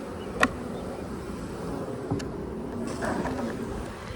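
Honeybees buzz steadily from an opened hive box during a beekeeping hive check, a continuous close drone with a few sharper passes of individual bees, while a person speaks briefly.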